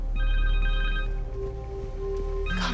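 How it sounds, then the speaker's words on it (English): A cell phone in the Spider-Man 2 video game rings with a steady electronic tone pattern, moderately loud and close, playing alone for a few seconds before a brief sharp noise at the end. "Phone!"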